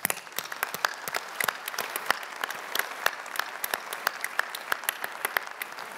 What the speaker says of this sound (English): why don't we give the panel a round of applause anyway?